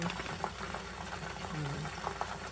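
Chicken frying in a pan with a steady, low bubbling sizzle and faint crackles, heard softly from a kitchen with a faint voice underneath.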